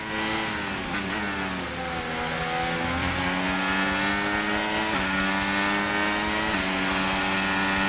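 Formula 1 race car engine in the F1 25 racing game, a loud sustained high-pitched scream with rising gear sweeps and sharp upshifts every second or two, running continuously without pause.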